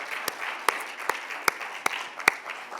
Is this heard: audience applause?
yes